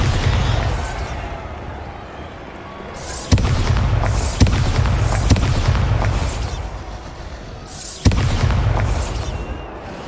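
Bombarda explosion spell cast in Hogwarts Legacy: a deep booming blast lands at about three seconds, followed by sharp bursts near four and a half and eight seconds, each trailing into rumbling debris and crackle over a steady low background.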